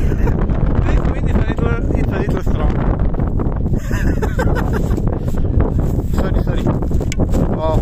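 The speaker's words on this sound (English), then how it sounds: "This wind is a little strong." Strong wind on a mountain buffets the microphone in loud continuous gusts and roars, with some voice mixed into the blustery noise.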